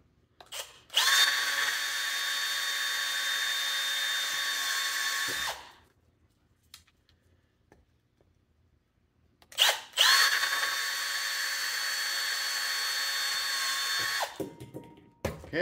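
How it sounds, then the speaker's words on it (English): A power drill whines through the plastic of an Attwood kayak light base in two long bursts of about four to five seconds each, separated by a quiet pause, close and loud. "So I'm just going to drill those straight through."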